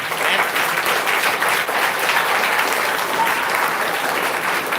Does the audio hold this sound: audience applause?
yes